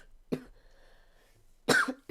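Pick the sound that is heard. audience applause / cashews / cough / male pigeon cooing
cough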